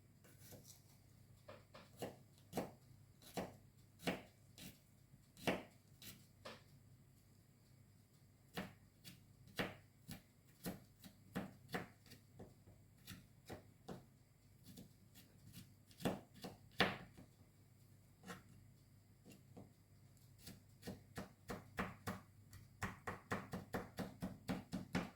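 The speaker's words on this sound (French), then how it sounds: "Je vais couper l'ail." Garlic is chopped with a knife on a board in a run of sharp, close taps, irregular at first and then faster and denser toward the end, quiet overall.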